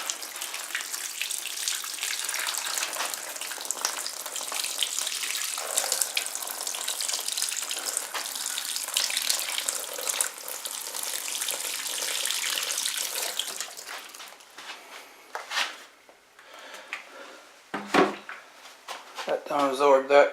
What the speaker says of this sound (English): I'll take my watering can now and water those in.